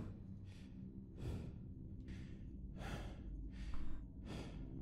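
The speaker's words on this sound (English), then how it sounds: "My guy's still breathing." Six slow, heavy breaths from a video game character in Terminal Error, each a soft airy rush in and out, spaced evenly over a low steady hum, with no speech.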